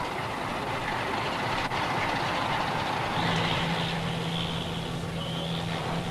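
A coal train hauling 1,000 tons of coal rumbles in to a coal-fired power station in northwest England, a continuous heavy rolling roar with faint wheel clatter and a sustained low hum, no voices.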